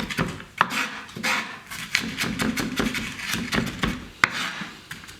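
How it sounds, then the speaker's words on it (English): A knife finely chopping garlic on a cutting board, quick irregular taps and scrapes close up, fairly quiet and alone. "I'm just gonna chop it a little bit finer."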